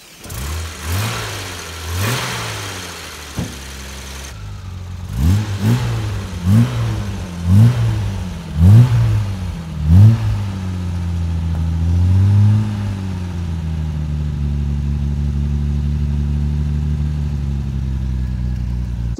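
A 1963 Jaguar E-Type Series 1 3.8-litre coupé engine cranks, catches and revs in a series of sharp, close blips before settling into a steady, rumbling idle.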